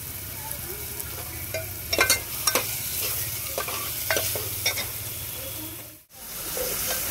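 Onions with cumin fry in hot oil, giving a steady close sizzle broken by several clattering stirs of a spoon. The noise drops out briefly near the end.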